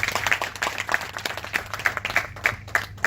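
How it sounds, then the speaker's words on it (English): An audience at a startup branding talk gives a speaker a short round of applause: light, fairly sparse clapping with a loose, uneven rhythm, moderately close and fading slightly toward the end. "So shall we hear a round of applause for him?"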